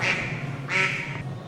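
A duck quacks beside an outdoor pool in two loud, close bursts separated by a short pause, with steady background noise underneath.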